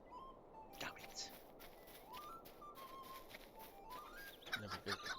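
Rooster in Lord of the Rings Online game audio, quiet bird calls and whistle-like tones rising and falling over a soft background, ending with a louder burst of clucking.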